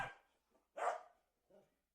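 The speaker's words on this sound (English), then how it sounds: "The barking is right there, but no dog." A dog barks three times at uneven intervals, with the middle bark loudest and the last one softer, each sharp and isolated against silence.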